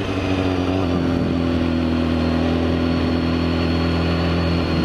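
A BMW S1000RR superbike engine holds a steady, even drone with a strong buzzing tone throughout, close and loud, with no talking over it.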